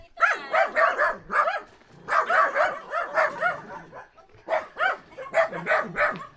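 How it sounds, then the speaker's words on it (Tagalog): Several dogs bark excitedly in quick bursts, yapping clusters separated by brief pauses, close and loud. "Dami aso"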